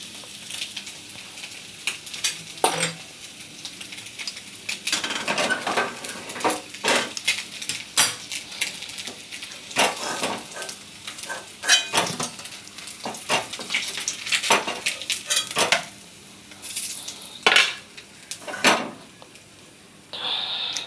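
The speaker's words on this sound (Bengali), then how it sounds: "মাছ ভাজা হয়ে গেল, এবারে তুলে নেব" Fish frying in refined oil in a pan, with steady sizzling broken by repeated scraping and clinking of a spatula against the pan as the pieces are lifted out, close and fairly loud, no speech.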